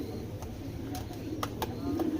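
Racing pigeons at a breeding farm in Bangladesh give soft, low, repeated coos, fairly faint and close, with a few sharp clicks and rustles among them.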